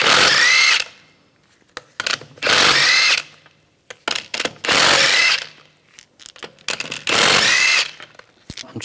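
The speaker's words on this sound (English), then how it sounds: "I'm going to use a 17mm socket. Take the lug bolts out." Power tool with a 17mm socket spins lug bolts off a wheel on a 2010-2014 Volkswagen GTI, four loud close whirring bursts of about a second each separated by quiet pauses and small clicks.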